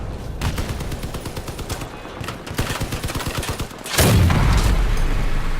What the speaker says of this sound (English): And there's already things exploding in the distance.